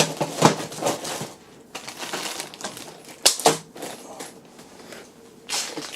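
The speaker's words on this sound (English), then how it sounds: "Dice fell down." Dice tumble and clatter while a board game box is being unpacked, with scattered sharp clicks and rattles amid rustling handling noise, close and fairly loud.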